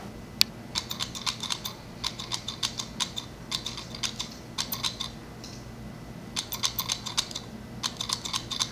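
Several people typing on computer keyboards at once, producing a steady patter of clustered key clicks in irregular bursts, fairly close and moderately loud with no talk.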